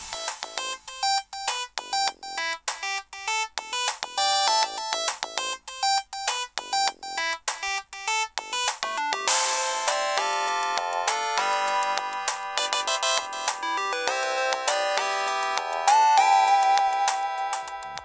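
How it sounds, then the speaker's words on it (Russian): Siemens SL55 mobile phone playing its preinstalled polyphonic MIDI-style ringtones through its small built-in speaker: bright, chiming melodic tunes in quick staccato notes, one after another, louder and fuller partway through, with no voices. "Всего в телефон предустановлено 23 рингтона в форматах MID и MMF, адаптированных под воспроизведение через 16-голосный динамик телефона."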